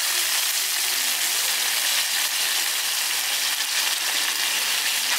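Tomato paste and ginger-garlic paste sizzle in fried onions, a loud, steady close hiss of frying that runs unbroken from start to finish with no voices.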